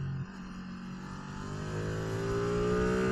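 A Ducati Streetfighter V2 motorcycle engine pulls hard from low revs on a mountain road, its rising tone climbing steadily over three seconds with wind rush, close and loud.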